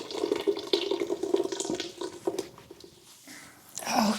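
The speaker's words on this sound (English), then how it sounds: "I'm going to take this little saucepan and dump our sauce right here into, and I'm going to pour it away from me." Birria sauce pours from a small saucepan into a Dutch oven in a home kitchen, a continuous wet splashing stream that thins and trails off before a short final gush, with no talking.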